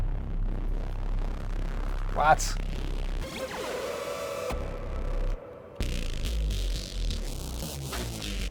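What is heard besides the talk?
grok filth bass instrument in Dreams PS4 video game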